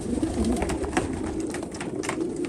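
Pigeons coo softly in low, rolling murmurs against a steady background hum, with no voices.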